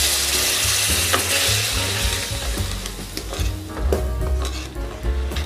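Spices frying in oil with salt, ground coriander and a splash of water for a methi bhindi aloo sabzi, stirred steadily in a pan, giving a continuous close sizzle with scraping spatula strokes.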